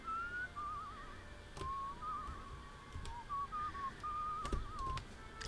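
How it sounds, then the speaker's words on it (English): A character whistles a wavering, warbling tune in the video game Where The Water Tastes Like Wine, the melody running in several phrases with brief pauses over a quiet background hum. "I'm gonna show you my whistling skills"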